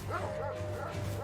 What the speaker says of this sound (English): Did you hear that? You know the dogs?